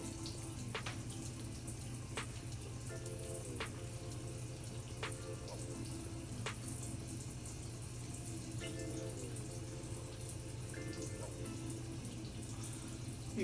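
A bathroom tap runs steadily while hands are wetted at a sink before applying a face cleanser at night; a constant close hiss of water with small splashes and clinks, no talking.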